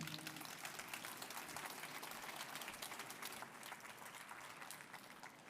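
A conference session audience gives a speaker on seaweed and aquaculture a round of applause, a dense, even wash of many hands clapping that holds steady and fades slightly toward the end, heard at a distance.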